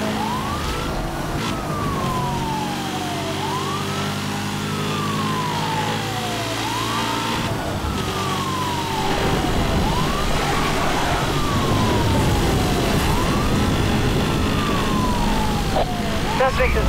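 Wailing police sirens from a high-speed pursuit in the 2010 racing game Need for Speed: Hot Pursuit, rising and falling in repeated sweeps over steady car engine roar, loud and continuous throughout.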